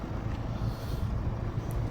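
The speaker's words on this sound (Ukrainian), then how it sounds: "покажу, як бігає польський двигун" Nissan car with a Polish-made engine running, a steady low rumbling idle with constant throbbing, close and moderately loud, with some wind buffeting over the microphone.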